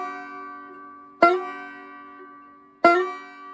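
Two plucked banjo notes on the first string in Cripple Creek, each sharp attack sliding up into a ringing sustain, played alone and spaced apart.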